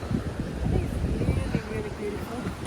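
A cool breeze on the Mount Oberon hiking trail at Wilsons Promontory rumbles softly against the microphone in low gusts, with faint voices underneath.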